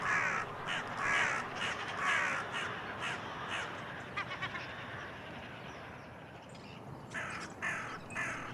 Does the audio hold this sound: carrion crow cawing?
yes